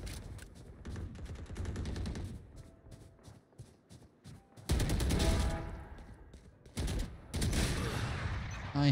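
Video game gunfire comes in bursts of rapid shots, some close and loud, with quieter gaps and a few single cracks between volleys.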